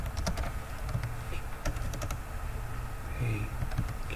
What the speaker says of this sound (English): let's type in Bible